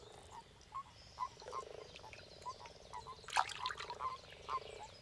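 Several frogs croak in short repeated calls over a steady outdoor chorus in a flooded Danube floodplain forest, with one louder burst near the middle; no voices.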